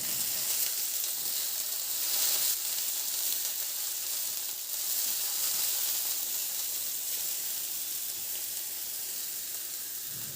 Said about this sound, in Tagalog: magpainit na ako ng mantika, igisa ko na yung bawang. Igisa ko na rin yung sibuyas.